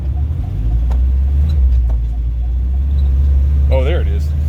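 Saab 96 Deluxe V4 car driving with a steady low engine rumble throughout, a brief mechanical shift into second gear partway through, and a short burst of a voice near the end.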